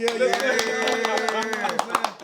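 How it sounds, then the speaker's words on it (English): A group of people clapping in a studio-style talk show setting, scattered claps rising over steady talking voices and laughter throughout. "Y'all clap it up."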